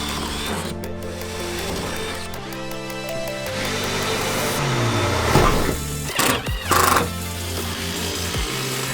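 A power drill whirs close by in short bursts, drilling screw holes, its motor pitch climbing and dropping as it bites into material.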